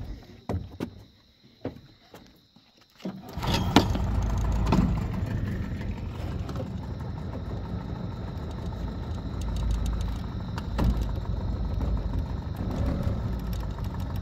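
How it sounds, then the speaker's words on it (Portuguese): A boat motor on a swollen river starts after a few knocks and clatters, then settles into a steady, fairly loud idle that runs on without a break. "eu vou ligar o motor e mandar você lá"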